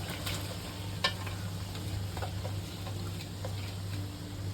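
Chopped onion frying in masala in a pan for a prawn malai curry, a low continuous sizzle broken by a few quiet taps and scrapes of stirring, one slightly sharper knock early, no voices.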